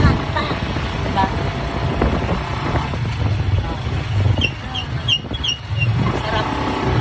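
A motorized tricycle rides through traffic with its engine droning steadily throughout and other vehicles around it, while a person talks over the noise.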